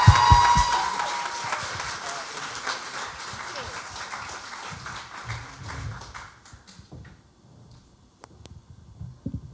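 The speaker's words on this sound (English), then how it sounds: "Would please like a round of applause for them" A crowd applauds at a community awards ceremony, a dense wash of clapping at the start that thins and fades over several seconds, with a few scattered claps lingering at the end.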